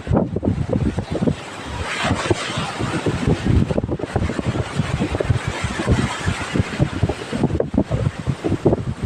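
Strong, gusty seaside wind buffets the microphone in a steady roar, with a broad wash of large waves beneath it.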